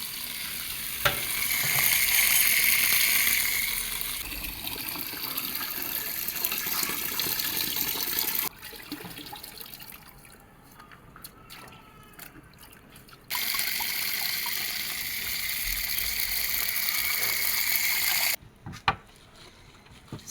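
Water leaf is washed in a basin of water, with continuous splashing, swishing and trickling close by, interrupted by two short quieter pauses before the sloshing resumes, no voices.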